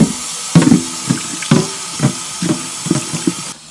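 Water is emptied out of a chicken waterer in a run of rhythmic glugging splashes, about eight pulses, close and fairly loud, before it stops abruptly.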